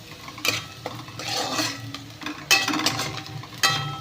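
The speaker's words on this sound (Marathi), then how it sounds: "तर मी आता कडीपत्ता आणि मिरची भाजून घेणार आहे" Curry leaves and green chilies are being stirred in a pan for a potato-chili dish, with a low sizzle under scraping spoon and clinking utensil strokes that come in bursts over about four seconds.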